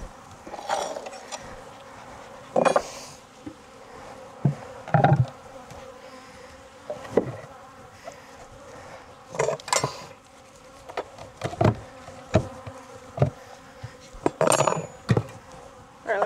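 Honey bees swarm around an opened beehive in a Florida apiary in November, a steady close buzz with insects zipping past the microphone, mixed with occasional knocks and clatter from hive equipment.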